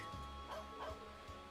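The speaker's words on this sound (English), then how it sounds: "A dog!" A dog in the video game Trails of Cold Steel gives a couple of soft, brief barks over a steady, quiet game ambience.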